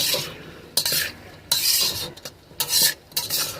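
Chicken pieces stirred in a hot pan with ginger-garlic paste over medium-high heat: repeated scraping sweeps of a spoon against the pan over a steady sizzle, with no talking.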